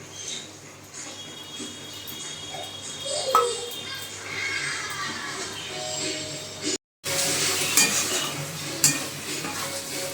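Mutton masala paste is stirred and fried in a pan, with a soft sizzle, utensil scrapes and clinks against the pan, and a louder hissing burst after a short break, faint talk underneath.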